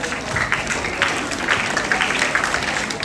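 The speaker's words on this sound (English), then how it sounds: "Let's clap for them." A school crowd claps for its prefects, with uneven, moderately loud clapping from a group that rises and falls in bursts, and faint voices mixed in.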